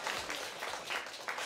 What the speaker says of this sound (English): You hear the applause there?